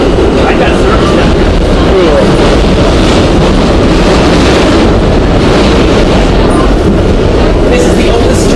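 A Budd R32 C train rides the 8th Avenue Line underground, its loud steady roar and rail rumble filling the whole stretch with constant wind buffeting from inside the car.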